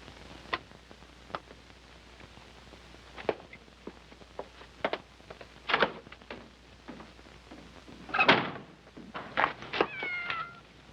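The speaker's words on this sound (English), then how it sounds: "Said shut up, you mangy little cat." A cat meows several times, with faint ticking and shuffling steps between the calls, and the meows grow louder and more insistent toward the end.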